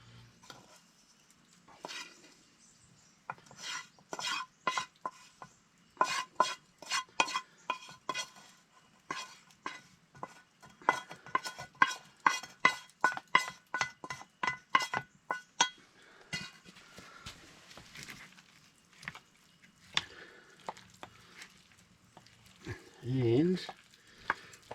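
Onion with garlic and sea salt is stirred in a pan at an outdoor bush camp, the utensil clinking and scraping in quick irregular runs over a faint sizzle, with quiet talking near the end.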